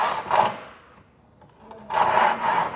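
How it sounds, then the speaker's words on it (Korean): A hand saw cutting a straight line through wood, rasping strokes in two bursts separated by a quiet pause, close and moderately loud. "그런 다음 윗면과 아랫면에 동등한 비율로 라인을 맞춰서 톱질을 해 나갑니다."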